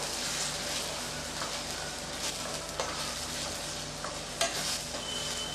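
Ginger and garlic masala sautéing in a pan for egg curry, a constant soft sizzle under a low steady hum, with occasional faint scrapes of a stirring spoon, close but quiet and without talk.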